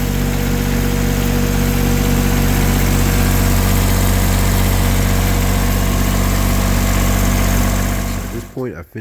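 A car engine idles loud and close with a steady low hum after being cranked, running continuously before stopping abruptly near the end.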